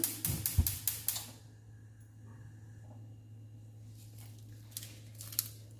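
A gas stove being lit in a home kitchen makes a rapid burst of sharp igniter clicks, then a low steady hum, with a few more faint clicks near the end.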